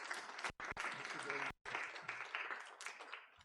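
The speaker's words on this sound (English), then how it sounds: "Let's give him a good round of applause" Audience applause after a lecture at an academic talk, a dense wash of clapping that cuts out abruptly twice and then carries on steadily at a modest level, with a voice audible underneath.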